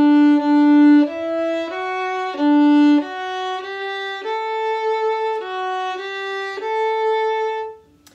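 A beginner ensemble plays the simple round Are You Sleeping on sustained, clean instrumental tones, a steady melody of held notes at moderate loudness with no talking, ending in a brief fade.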